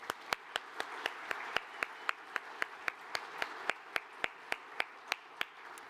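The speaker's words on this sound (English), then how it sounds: "So we're going to just applaud for them just in case they're watching." Steady, evenly spaced hand claps ring out about four times a second at a law society gathering. The sharp, distinct claps rise over a quiet room hum with no talking.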